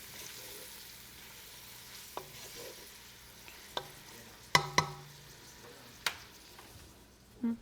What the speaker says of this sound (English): now we're gonna add the onions just to soften a bit and get that a head start before the garlic